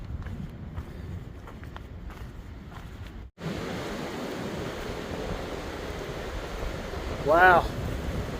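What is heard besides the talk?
strong wind blowing through a mountain draw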